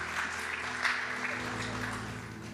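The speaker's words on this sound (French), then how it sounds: "Est-ce qu'on peut les accueillir, les applaudir ce matin?" A church congregation applauds in steady, dense clapping at moderate distance, with a low hum underneath.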